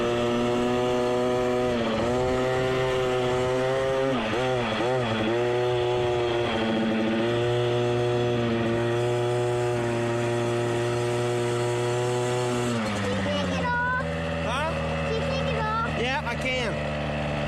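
A 65cc dirt bike on a practice motocross track buzzes and revs with a high, steady two-stroke whine, rising and falling as it rides, close and loud throughout, with people talking over it.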